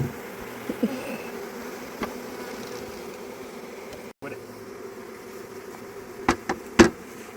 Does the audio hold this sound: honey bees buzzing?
yes